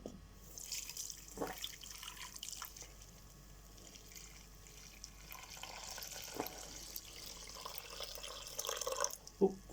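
Water poured into a pot for polenta, a faint steady trickle and splash with a few drips, quiet and close, with no talking.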